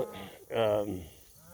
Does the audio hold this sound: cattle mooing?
yes